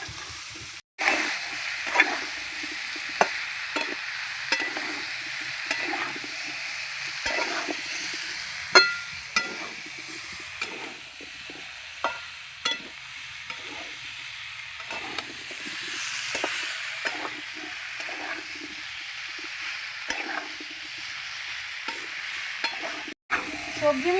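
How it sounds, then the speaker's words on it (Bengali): Mixed vegetables with turmeric frying in a pan before shis palong spinach goes in, a steady bright sizzle broken by frequent scraping stirs of the spatula, close and continuous throughout with no talking. "দিয়ে দেবো হলুদ, ভালো করে নেড়ে চেড়ে আমি একটু ভেজে নেব।"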